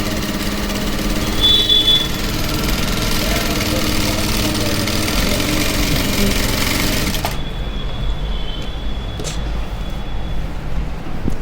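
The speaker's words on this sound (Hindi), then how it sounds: "आप देख सकते हैं कि ये जो है मशीन की जो सिलाई है वो बहुत ही छोटे छोटे टाँकों में आ रही है।" An LK-H1 sewing machine runs and stitches in small, tight stitches with a steady, continuous mechanical whir and buzz, loud and close, changing tone partway through, with no talk.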